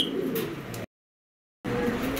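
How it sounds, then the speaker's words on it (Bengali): A pair of top-quality Spanish Chorra pigeons coo softly at close range, with a low, throaty call before and after a silent break, and no talk. "টপ কোয়ালিটির একজোড়া স্প্যানিশ চররা কবুতর।"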